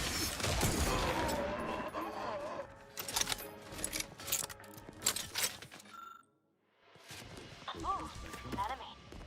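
Gunfire in a video game, loud clustered bursts of shots that start and stop, one brief near-silent gap, with speech around it.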